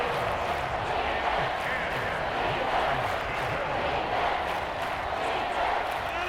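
Stadium crowd in Madden NFL during a Packers vs Chiefs preseason game, a steady dense roar of cheering and chatter that holds at an even level throughout, loud and continuous with no break.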